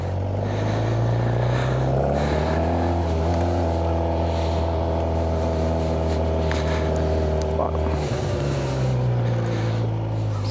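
A Suzuki GSX-R 600 sport motorcycle engine under riding: a steady, loud drone with strong harmonic tones that hold pitch, dip briefly, then climb again, with wind noise throughout.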